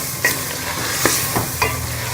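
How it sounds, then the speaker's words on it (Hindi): Chicken stir-fried in a pan for Pakistani-style biryani, a steady sizzle with a few distinct scraping strokes of the spoon spaced about half a second apart, close and alone. "भून के इसके अंदर हम चिकन डाल देंगे और इसको अच्छी तरह भून लेंगे।"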